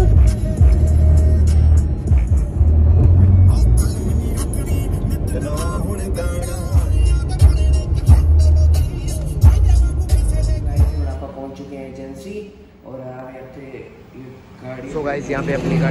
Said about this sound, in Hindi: आज हम जा रहे हैं अल्टो की सर्विस कराने